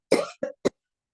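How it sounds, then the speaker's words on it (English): Three quick coughs in close succession during a yoga breathing exercise, close and clear, the first longest and the last a short clipped burst, followed by silence. "So we give it a cough first."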